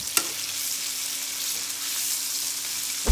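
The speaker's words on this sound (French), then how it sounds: "Je vais les laisser un petit peu dorer, tranquillement." Food browning gently in a frying pan gives a steady, close sizzle throughout, with a couple of brief utensil knocks at the start and end.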